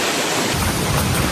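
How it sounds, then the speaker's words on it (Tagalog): Heavy rain pours down in the Bicol countryside, a dense, loud and continuous roar of water with no pauses and no voices over it. "grabe po lakas ng ulan dito"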